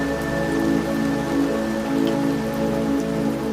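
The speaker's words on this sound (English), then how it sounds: "the rain against the roof." Steady rain patters on a roof in an even, close, continuous wash of drops with a low constant hum underneath and no voices.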